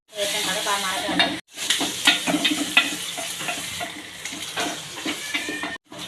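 Mustard seeds, fenugreek, curry leaves and dried chillies sizzle hard in hot oil for an Andhra tomato dal tempering, a loud, close crackling hiss with stirring scrapes, broken by two brief gaps.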